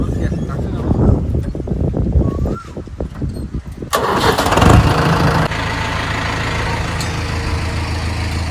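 A tractor's diesel engine cranks and catches near the start of the second half, then settles into a steady idle after speech and clatter in the first part.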